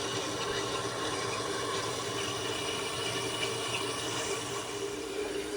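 A Whirlpool washing machine pumps water on a medium spin cycle, steady rushing water pouring continuously with a constant mechanical hum underneath, close and fairly loud, with no pauses or voices.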